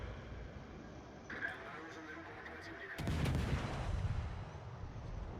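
Gunboat guns in a naval warship game, Udaloi firing at a burning enemy ship: a sharp salvo crack followed by heavy sustained booming and rumbling that carries on to the end, loud and close.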